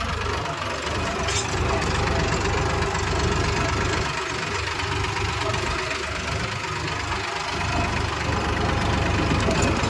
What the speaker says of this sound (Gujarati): ટ્રેક્ટરમાં થોડુંક કામકાજ કરવું ને સર્વિસ કરાવીએ ને એ આપણે જઈએ પોરી ટ્રેક્ટર લઈને